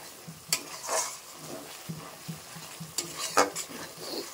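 Chicken and potatoes frying in a pan, with a spoon stirring and scraping in short uneven strokes over a steady soft sizzle, close and with no talking.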